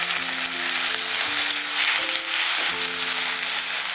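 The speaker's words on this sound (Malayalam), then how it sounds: "ഇതിലേക്ക് തക്കാളി ചേർക്കാം." Tomatoes frying and sizzling in a pan with softened onions, a steady close hiss of hot oil running throughout with faint tonal clinks of utensils, no voices.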